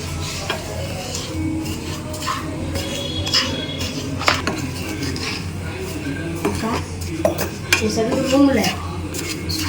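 Semolina dry-roasting in a pan for rava kesari while a metal spoon stirs it, giving repeated scrapes and clinks against the pan over a low background, louder toward the end.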